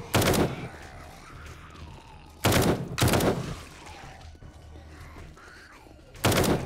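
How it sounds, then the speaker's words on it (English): Short bursts of rapid gunfire in the 7 Days to Die zombie survival game, three separate loud volleys spaced a few seconds apart with quieter game ambience between them. "Need to do burst shots."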